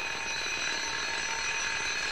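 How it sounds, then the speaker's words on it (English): A loud, continuous electronic alarm tone is played on air for a morning radio show contest, a harsh steady ringing that fills the whole moment without talk. "we're going to play the alarm here so you can hear what it sounds like"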